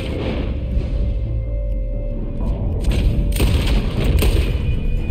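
Gunshots in Red Dead Redemption 2, a few sharp booming cracks near the end over a steady low rumble of game ambience.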